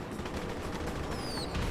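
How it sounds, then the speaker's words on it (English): Fireworks crackle and pop in rapid, dense bursts in GTA Online, a continuous noisy barrage with a couple of brief whistling streaks near the end. "can you fuck off with the amount of fireworks?"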